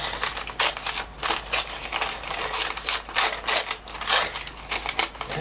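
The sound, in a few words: paper tearing along tape edge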